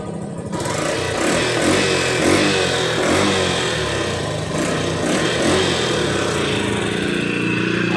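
A Yamaha YTX motorcycle idling after starting, with a steady buzzing single-cylinder engine note that runs continuously with slight uneven pulsing, close and moderately loud, with no talk over it.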